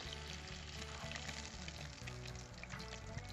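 Pomfret fish frying in hot oil in a home kitchen, a steady dense sizzle with crackling bursts that runs unbroken, close and fairly quiet, with no talking.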